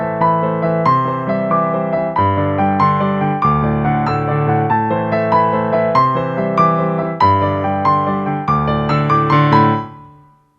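Piano plays a closing passage, with flowing sustained chords and arpeggios rising to a final chord that rings out and fades, no voices.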